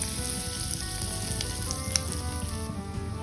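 Nigella seeds sizzling in hot white oil in a wok, a loud, steady, close frying hiss with a few small pops, with no voices.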